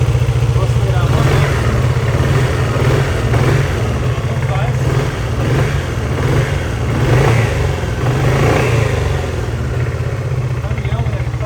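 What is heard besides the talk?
Dafra Maxsym 400i scooter engine revving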